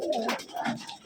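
Pigeons in a loft on a gerebaj pigeon farm in Rajshahi, soft close cooing and rustling over a brief moment.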